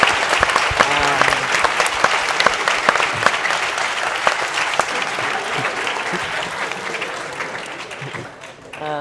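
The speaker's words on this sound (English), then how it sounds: "can I ask for a big round of applause to our panelists" A conference audience at an AI and robotics summit applauds its panelists with dense, sustained clapping, loud and steady throughout, fading only slightly at the end.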